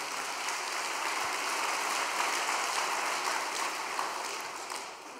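A congregation at a Korean overnight devotional service applauds in thanks, producing a steady, hissing wash of many hands clapping that swells slightly and then fades toward the end.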